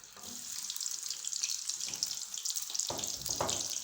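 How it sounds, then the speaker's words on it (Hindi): Onions hitting hot ghee in a pan give a steady hiss and crackle, with a louder sizzling burst near the end as more onion goes in. No one speaks. "घी हमारा गर्म हो गया। अब हम इसमें डालेंगे प्याज।"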